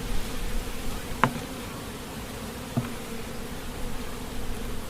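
Honey bees drone steadily inside a Paradise-style beehive with drawn comb, a constant close hum broken by two sharper clicks or knocks.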